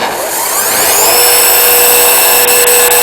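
The motor of a CRM router machine whines up and settles into a steady, loud high-pitched running drone, with no voices over it.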